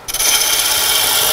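A gouge takes a shearing cut on wood spinning on a lathe while a toy top is turned, a loud, steady, close hissing scrape that starts abruptly after a moment of quiet.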